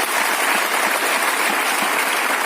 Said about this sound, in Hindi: मिस्टर दीपक सर के लिए एक बार जोरदार ताली होनी चाहिए।